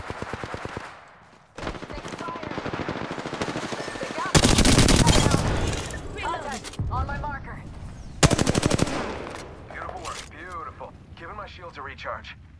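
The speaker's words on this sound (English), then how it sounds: "Getting shot at." Heavy automatic gunfire in a squad shooter video game, with loud sustained bursts and shorter volleys across the clip alongside game effects, while players talk over the shooting.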